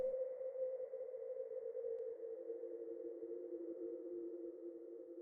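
A soft, steady synth pad from an OP-1 Field synthesizer holds a sustained low-mid tone with a gentle airy wash of reverb, unchanging and quiet throughout.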